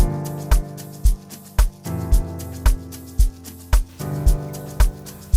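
Plain piano chord progression played alone, with evenly spaced chord strikes roughly every half second and a held bass change about every two seconds, in a steady, simple rhythm.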